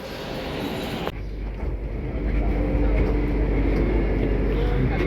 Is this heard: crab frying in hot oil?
no